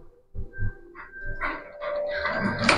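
Street dogs and puppies jostle while being fed packed rice, with short whimpers and yelps building into a busy, rising scuffle of small dog sounds close by.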